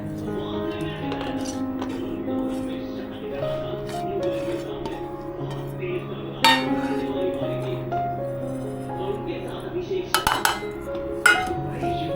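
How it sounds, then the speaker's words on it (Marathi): Spoon clinking and scraping against a steel bowl while finely chopped capsicum, carrot and coriander are mixed together, irregular metallic taps and rattles with a few sharper clanks near the end, over faint room background. "आता आपण ह्याच्यामध्ये सगळं मिक्स करून घेऊया"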